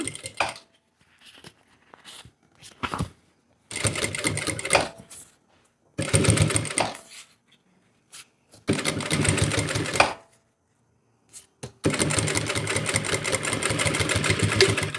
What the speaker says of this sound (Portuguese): vou costurar aqui na pontinha